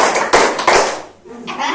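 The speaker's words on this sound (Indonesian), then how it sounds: "Tepuk 3 kali." A group of people claps three times in unison during a clapping game at a community outreach meeting for the PKH social assistance program; the sharp claps land close together over a noisy indoor room.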